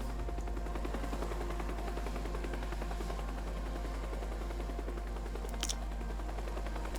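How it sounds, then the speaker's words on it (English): A helicopter in the video game Teardown drones steadily with a low rotor hum beneath layered mechanical noise, staying moderately loud throughout, with a brief sharp burst near the end. "You'd think that the guy piloting the chopper would just bomb your boat."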